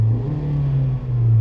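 Hyundai Grand i10 engine heard from inside the poorly insulated cabin, a steady loud low hum with a slight dip partway through, continuous with no talking.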